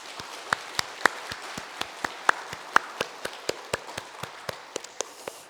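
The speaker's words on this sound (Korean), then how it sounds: "이 시간 하나님께 감사와 영광의 박수를 함께 올려드리도록 하겠습니다." Sharp, evenly spaced claps ring out in a church during a Sunday anniversary service, a steady quick rhythm of single hand strikes, fairly quiet and unaccompanied by talk.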